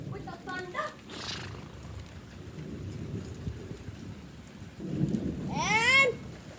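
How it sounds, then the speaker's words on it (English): Rain falls during a thunderstorm, a soft steady patter with low rumbling underneath, while people talk and exclaim over it, including a loud excited voice near the end. "lightning with the thunder."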